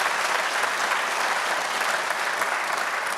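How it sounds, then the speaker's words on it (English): An audience at an economic forum breaks into steady applause, a continuous wash of many hands clapping at even strength throughout, with no voices standing out. "That deserves an applause"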